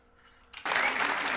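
Applause from an audience breaks out after a brief murmur, a dense burst of clapping that quickly swells and stays loud and continuous.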